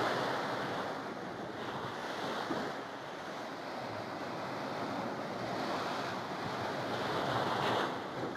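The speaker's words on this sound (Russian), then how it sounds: "меня омыло морской волной." Sea waves wash steadily onto a beach in Thailand with a broad, continuous surf roar that rises and falls softly, touched by some wind noise and no voices.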